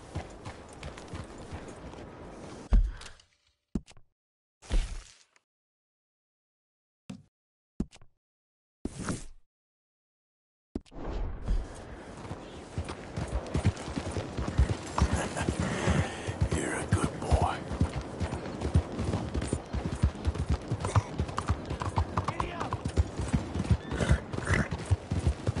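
Horse hooves clip-clop steadily in the Red Dead Redemption 2 video game, a rhythmic trotting gait that runs loud and close through the second half after choppy, broken bursts of game sound early on.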